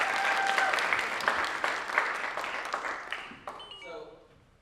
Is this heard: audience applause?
yes